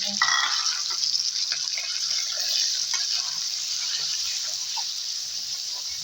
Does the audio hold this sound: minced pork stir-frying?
yes